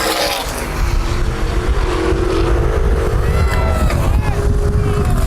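Sprint cars from the 2010 Hoosier Outlaw Sprint Series at Baer Field Speedway roar across the finish line, a loud, sustained engine howl with pitch sweeps as cars pass, under a race announcer's commentary.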